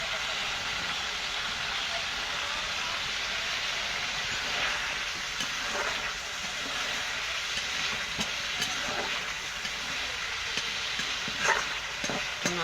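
Magur fish curry with garam masala paste sizzles and fries in a pan while being stirred, a continuous hiss with scattered scraping clicks throughout.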